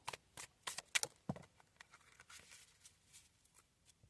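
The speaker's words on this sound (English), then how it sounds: "And now, we shuffle." Tarot cards are shuffled by hand, soft papery riffles and light flicks in quick, uneven bursts, close and quiet with no talking.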